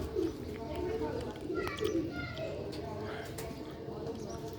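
A pair of Sialkoti pigeons coo softly in repeated low throaty phrases, close by, with someone talking over them.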